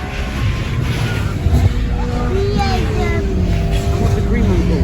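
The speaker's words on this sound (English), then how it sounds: "Here comes the BMW." A BMW with its lights on drives past at the Castle Combe race circuit during a summer track day, its engine note rising and swelling through a noisy trackside backdrop while spectators chat nearby.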